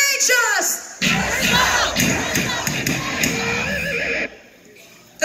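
A concert crowd at a New Years Day show in Tucson, Arizona, chants loudly in unison for a few seconds, then drops off abruptly, with a singer's voice briefly before it.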